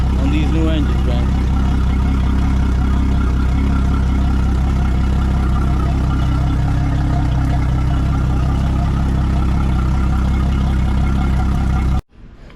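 A Yamaha F300 outboard boat engine, the starboard one of a pair, idles steadily while warming up, a continuous low rumble with mechanical clatter that cuts off abruptly near the end.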